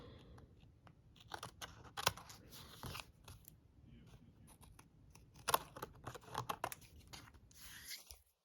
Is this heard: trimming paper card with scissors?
yes